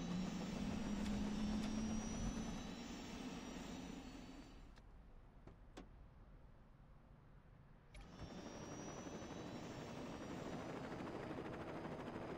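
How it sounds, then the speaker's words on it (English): Helicopter in the video game Saints Row 2, a steady loud rotor and engine drone that dips quieter in the middle before swelling back up, with no talking. "We'll take a helicopter."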